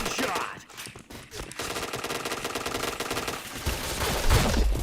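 Dense, rapid gunfire from a shooting video game, sustained automatic bursts that blend into a continuous rattling barrage.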